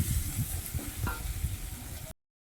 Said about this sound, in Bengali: মাছের তেল ভাজা হয়ে গেছে একটু পুড়ে পুড়ে নাড়তে গেলাম জোর দিয়ে